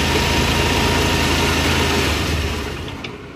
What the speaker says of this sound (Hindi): इंजन स्टार्ट है,